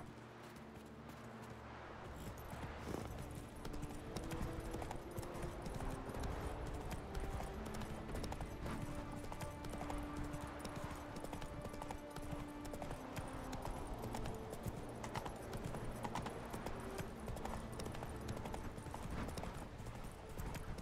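Horse hooves clip-clop steadily through The Witcher 3 video game, mixed under a dense, continuous bed of game music and ambience at low level throughout.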